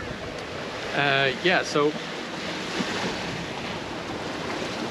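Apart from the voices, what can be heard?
ocean waves rolling behind a sailboat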